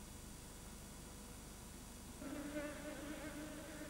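A swarm of bees gathered in the shade of a tree on an island of salt hums in a faint, steady buzz that thickens and grows a little louder partway through.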